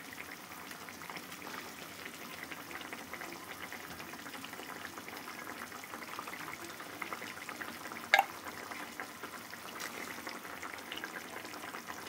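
Fried rohu fish pieces simmering in a spiced curry in a pan, giving a steady soft sizzle and bubbling throughout with one brief sharper clink midway; no voices.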